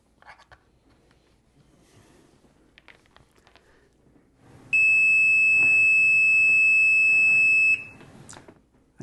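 A Greenlee DM-820A multimeter with gold-plated probes gives a continuity test beep, a loud steady tone held for about three seconds after quiet handling noises.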